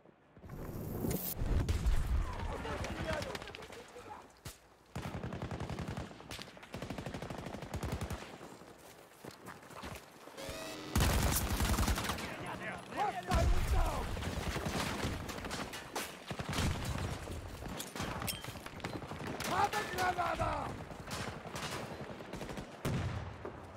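Rapid bursts of automatic gunfire from a new weapon in Battlefield 2042 Rush mode, loud and near, firing in repeated volleys with brief gaps, alongside other distant shots.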